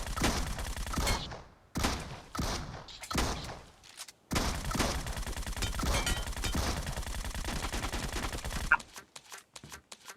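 Rapid gunfire in the video game Metro Royale, several dense bursts of automatic fire broken by short pauses, then a long sustained volley ending in a few scattered shots, loud and close.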